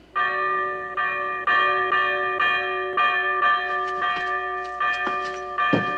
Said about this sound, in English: The bell above the door outside.